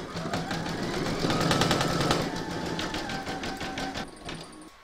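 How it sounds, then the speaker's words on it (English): An embroidery machine hums steadily and close, rapidly satin stitching around the edge and along the joins of a scalloped square placemat, with a fast rhythmic needle chatter throughout. "you can now stitch round number 12, and that's going to do all the satin stitching around the edge and along the joins"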